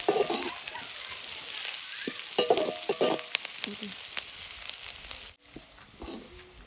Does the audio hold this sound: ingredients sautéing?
yes